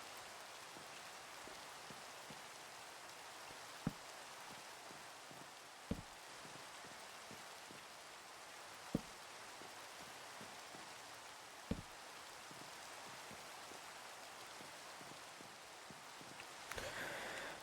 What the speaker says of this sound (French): Ah, la pluie en pleine nuit là.